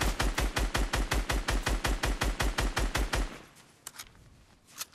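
Rapid automatic gunfire during a video game shootout, a loud even stream of about twenty close shots that stops abruptly, followed by a few faint scattered noises.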